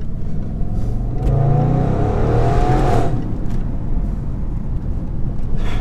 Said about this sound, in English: you get all these lovely fizzes and pops and rasps from the gear changes